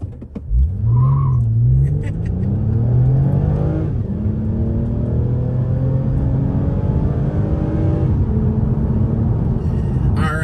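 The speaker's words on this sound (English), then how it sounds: "Do an acceleration here from a stop." A 2022 Toyota Camry TRD, front-wheel drive, pulls away hard from a stop, its engine note rising steadily in pitch through the run, loud and close, with a brief tire chirp at launch before traction control steps in.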